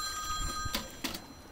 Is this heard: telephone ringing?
yes